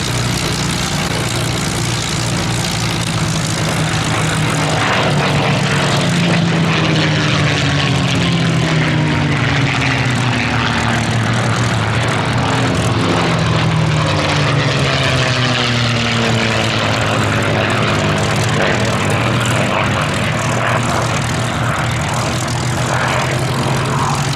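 Three P-51 Mustang fighters make a final pass at the Duxford Battle of Britain Airshow in 2023, a loud continuous propeller-engine roar whose pitch sweeps and drops as the aircraft fly by.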